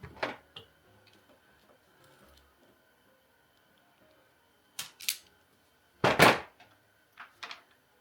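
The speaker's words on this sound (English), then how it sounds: "it might be easier just to cut this wire" Wire cutters snip through a wire being prepared for solder connectors, giving a few sharp, close clicks and crisp snaps spaced across a quiet room, the loudest pair coming near the end.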